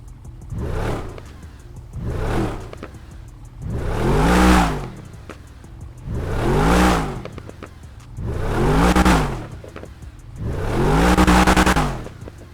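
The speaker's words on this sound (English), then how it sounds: "let's take a listen to a couple revs" A car in GTA 5 fitted with a modded engine sound revs hard six times in a steady rhythm, each loud, close rev swelling and falling back before the next, with no talking.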